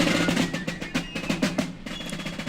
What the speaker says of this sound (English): That is the sound of a fife and drum band on the floor of the Boston Convention and